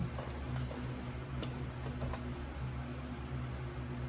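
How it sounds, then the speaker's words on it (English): A sewing machine stitches along the inside of a pants pocket seam with a quiet, steady mechanical ticking run that stays faint and even throughout, with no one speaking. "Now I'm just going to stitch right inside that seam if I can."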